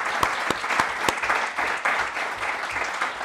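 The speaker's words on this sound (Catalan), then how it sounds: "Un aplaudiment" Audience applause at a book presentation event, a dense steady wash of many hands clapping throughout with a few sharper individual claps standing out near the front.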